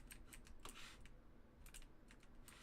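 Computer keyboard keys are pressed while playing the Stanley Parable video game, producing a few faint, quick clicks in short bursts over a low background hum.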